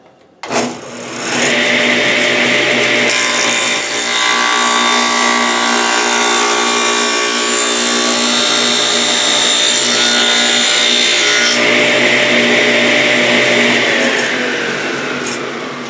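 A tenoner machine spins up and cuts through a wooden test piece, a loud sustained whirring whine with a harsher cutting band through the middle, then winds down near the end; no talking.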